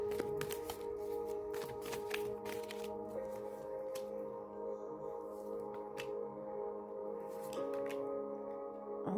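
Tarot cards shuffled by hand during a Pisces reading, a steady run of soft papery riffles and flicks close up, repeating through the whole stretch with no talking.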